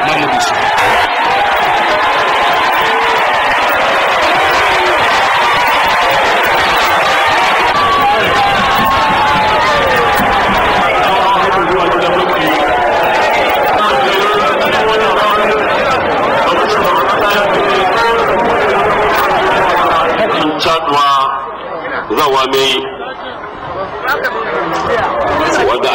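A large outdoor crowd greets President Mamadou Issoufou with a dense, loud roar of cheering voices and babble that runs almost continuously before briefly dipping near the end.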